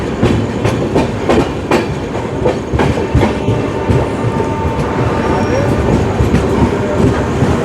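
The Kolkata–Radhikapur Express pulls into Naihati Junction at night, with loud, close rhythmic clickety-clack of wheels over rail joints and a rumbling carriage running continuously.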